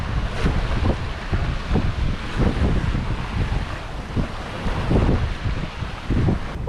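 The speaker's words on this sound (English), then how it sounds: "We're just effortlessly cutting through these waves, and the sun's setting" A sailboat cuts through open ocean waves on a blue water passage, with loud continuous wind buffeting the microphone over rushing, splashing water and the rhythmic surge of swells against the hull.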